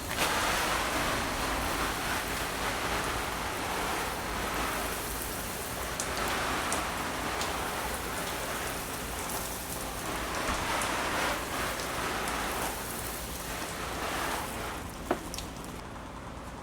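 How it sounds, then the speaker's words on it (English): Water sprinkles over a freshly repotted Chinese elm bonsai, a steady hiss of spray and droplets pattering on soil, continuous and even for the whole stretch with no talk. "let's give this thing a water so the soil will settle in."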